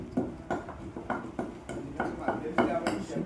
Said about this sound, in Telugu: ఇప్పుడు ఉప్పు వేసి వాటిని శుభ్రంగా కలుపుతారు.